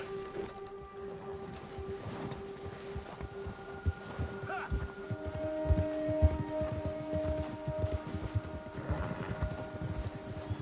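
Horse hooves walk at a steady clip-clop through a video game landscape during a spring storm, rhythmic and close, over a low hum and sustained tonal background ambience.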